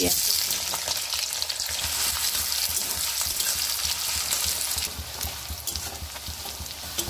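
Onions frying in hot oil in a pan for a Bengali-style broad bean and mustard paste dish, a loud, steady, dense sizzle throughout with occasional stirring scrapes and no talking.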